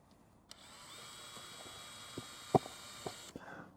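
A power drill drives a screw during maintenance on an Airstream trailer, a steady whining motor hum running for about three seconds with a few small knocks and clicks, moderately near, no talking.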